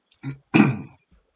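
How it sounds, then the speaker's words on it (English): A man clears his throat twice in quick succession, a short rasp followed by a longer, louder one, close to the mic with a faint trailing grunt. "Sorry if I'm clearing my throat a bunch."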